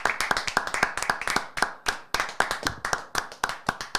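Hands clap rapidly and unevenly, many sharp claps close by with brief pauses, like a few people applauding during a football match broadcast.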